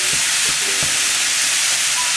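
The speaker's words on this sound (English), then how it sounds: "try and mix this up without spilling any" Turkish lasagne mixture (firin makarnasi) stirred in a small pan that sizzles loudly and steadily, with a few soft scraping knocks from the spoon early on and no talking.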